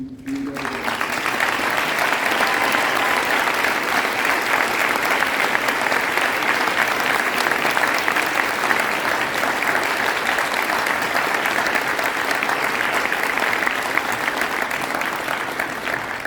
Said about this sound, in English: please stand up right now and receive an appreciative round of applause